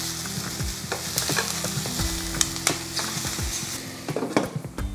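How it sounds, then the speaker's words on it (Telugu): Ridge gourd pieces fry in a pan over green chillies for a chutney, a steady close sizzle broken by frequent scraping stirs and light clinks of a spoon against the pan. "ఈ బీరకాయ ముక్కల్ని బాగా వేయించుకోవాలి."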